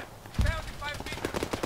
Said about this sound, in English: Oh, he shot me, dude.